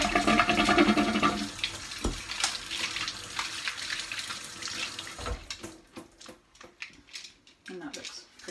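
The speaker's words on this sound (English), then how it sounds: "Let the soapy water go and rinse them again in clean water." Water from a sink tap runs and splashes while oil paint brushes are rinsed clean in the sink, loud at first, then thinning into softer trickles and scattered splashes.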